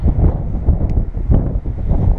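Wind gusts outdoors during a windshield replacement on a 2004 Dodge pickup batter the microphone as uneven low rumbling buffets that rise and fall in quick surges.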